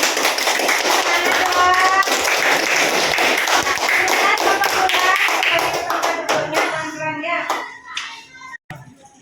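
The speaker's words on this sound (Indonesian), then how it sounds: "tepuk tangan dulu untuk kelompok bola" Schoolchildren in a classroom clap for a presenting group, a loud rapid patter of many small hands that thins out into a few scattered claps near the end, with children's voices faintly mixed in.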